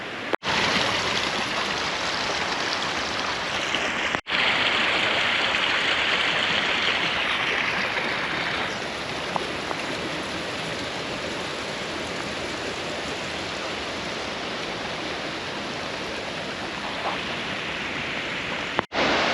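Creek in Oakhurst, California, swollen with March snowmelt after a big storm, a loud, continuous rushing roar of water close by that stays steady from start to finish.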